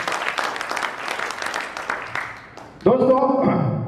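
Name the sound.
audience applause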